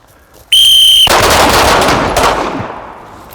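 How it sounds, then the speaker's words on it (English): On a tactical pistol course in Dover, Tennessee, a shrill whistle sounds, then loud, close pistol shots crack out and echo as they fade across the outdoor range. "All right, 2 shots on the whistle."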